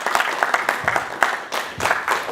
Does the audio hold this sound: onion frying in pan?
no